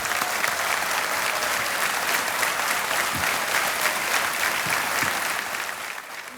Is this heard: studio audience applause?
yes